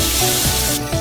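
Hilsa fish coated in salt and turmeric frying in hot oil, giving a continuous broad hiss with a brief shift in texture near the end, close and steady with no talking.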